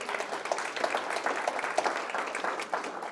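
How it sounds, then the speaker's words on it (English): Steady applause from a seminar audience at a talk about planning where to live, a continuous, moderately loud patter of many hands without interruption for a few seconds. "can give him a big round of applause for that"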